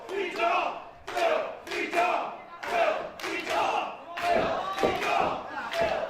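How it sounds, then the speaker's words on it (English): Wrestling crowd at a Prestige Wrestling championship match between Tom Lawlor and Dominic Garrini, chanting and cheering in loud rhythmic bursts for their champion, with a commentator talking over the noise. "You hear this crowd once again supporting their champion."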